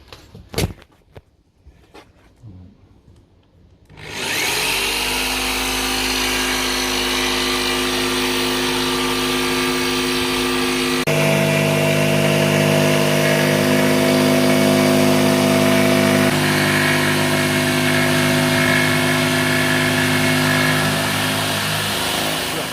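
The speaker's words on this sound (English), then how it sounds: "we're just about to start using the jigsaw to cut the shapes out that we need" An electric jigsaw cuts shapes from an MDF fascia board. After a few quiet clicks it starts up and runs loud and steady at close range, its pitch shifting partway through the cut. No one speaks.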